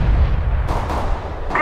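A grenade explodes in the video game CS:GO with a loud, booming low rumble that fades, followed by a few fainter cracking reports.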